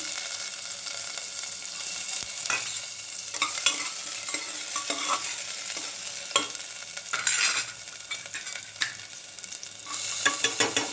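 Mustard seeds, cumin and a little garlic frying in hot oil for a moong dal khichdi tempering, a steady close sizzle with stirring scrapes and occasional crackles throughout, no voices.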